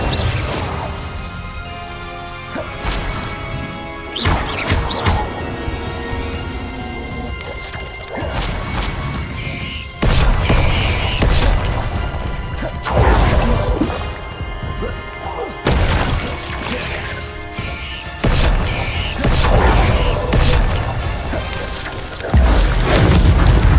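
Incendio fire spells cast in Hogwarts Legacy: a series of loud, booming blasts and crashing impacts, each followed by a crackling decay, repeating at irregular intervals with no one speaking.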